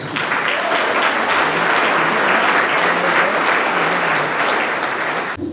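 Sustained applause from a gala audience at a Black Heritage awards event, full and loud from many hands, holding steady before cutting off abruptly near the end.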